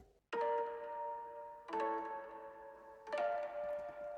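Three plucked harp chords ring out at a steady slow pace, each shimmering and decaying softly, quiet and alone.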